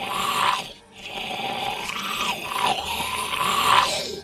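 A person imitates a Walking Dead zombie with a raspy, gurgling growl, close and fairly loud, breaking briefly near the start before resuming in a continuous, wet, snarling groan.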